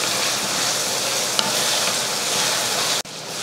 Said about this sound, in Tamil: வெங்காயம் வெள்ளைப்பூண்டு ரெண்டும் நல்லா வதங்கிருச்சு பாருங்க